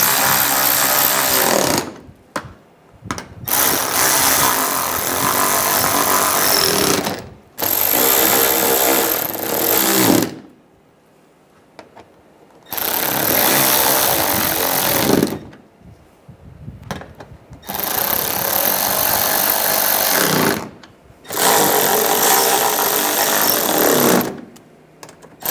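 A loud power tool runs in long bursts of several seconds while tightening the wheel lug bolts on a 2006-2009 Mercedes-Benz E350, harsh and close, separated by brief pauses.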